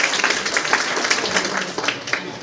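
Moderate applause from parents and villagers at a school parents' meeting, honouring a pupil. The clapping is steady and slightly distant, with murmured voices underneath.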